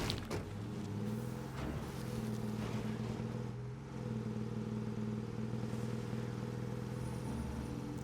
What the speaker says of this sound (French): Elle fait pas un bruit de moteur un peu douté, ma voiture?